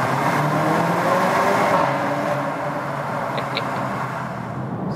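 Cupra Ateca with a 300 hp engine pulling hard in second gear, a steady loud drone of engine and road noise with the window down, continuous and close throughout.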